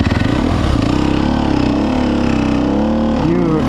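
A Sherco 4-stroke trials motorcycle revs hard as it climbs a hill, its loud, close engine drone throbbing and shifting pitch under the strain, with a voice briefly heard over it.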